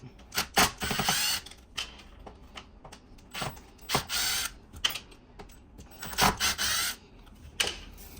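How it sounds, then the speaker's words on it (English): Power drill backing screws out of a JBL Boombox speaker casing, several short whirring bursts separated by pauses, quiet and close, with light handling clicks between them. "So I'm gonna use my drill."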